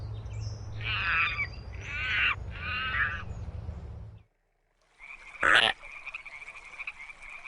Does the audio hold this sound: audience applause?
no